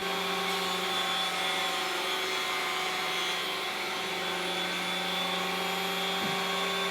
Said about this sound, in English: To get all the boards to the same height, I ganged them together and ran them through the thicknesser.